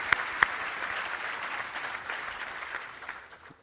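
Audience applause at a leadership gathering: dense, steady clapping from many hands that holds evenly and then tapers off toward the end.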